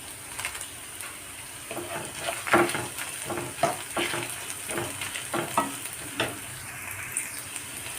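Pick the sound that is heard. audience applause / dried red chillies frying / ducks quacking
dried red chillies frying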